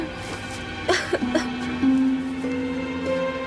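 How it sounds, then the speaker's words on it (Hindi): A woman in an action film scene gives a few short, harsh coughs in quick bursts, fairly close, over a low sustained musical drone that continues between them. "ये ऐसे खांस खांस के हमें फंसवा देगी सार्ज।"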